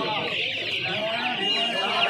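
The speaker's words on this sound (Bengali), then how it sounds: "এই অস্ট্রেলিয়ান মুরগির বাচ্চা রয়েছে এখানে খাঁচার মধ্যে" Dense, high-pitched chirping from many young Australian chicks in a cage at a hen market, continuous and close, with a few clucking notes mixed in.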